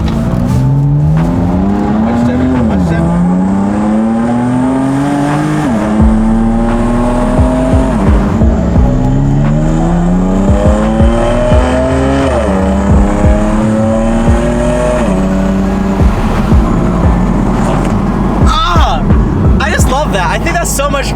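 A BMW M4 engine revs repeatedly while driving, rising and falling in pitch through several gear pulls with crackles and pops near the end, loud and close, with voices talking briefly over it.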